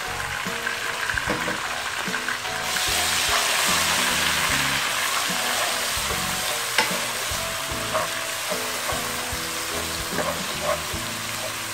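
Finely ground ginger, garlic and shallots sauté in a pan with a continuous sizzle, and scraping stir strokes and clinks recur throughout.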